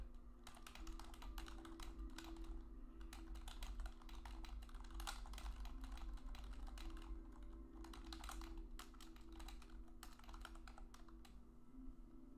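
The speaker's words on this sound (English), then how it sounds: "you hear me typing, it's because I'm updating notes here" Fast, continuous tapping on a computer keyboard while notes are updated during live day trading, a steady stream of close, soft key clicks over a low constant hum, with no voices.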